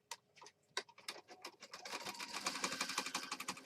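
A sewing machine stitches around the outer edge of a mixed-media paper page, starting with a few separate clicks and then settling into a fast, steady, close-up rattle.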